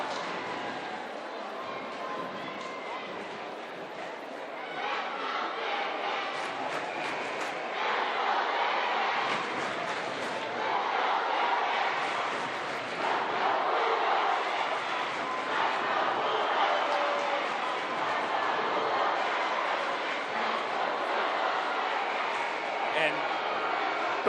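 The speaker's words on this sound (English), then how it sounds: "Both of the student sections battling back and forth here on who can get louder. And it's a rather raucous crowd here at the York Tech Fieldhouse" Raucous rival student sections at a York High versus West York boys basketball semifinal in the York Tech Fieldhouse, a dense, steady roar of crowd noise swelling and surging throughout, with no clear single voice standing out.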